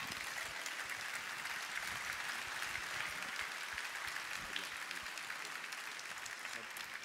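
Audience at the Trophées de l'innovation Hlm awards ceremony applauding the production team, a steady, fairly faint wash of clapping from a large crowd heard at a distance, continuous throughout.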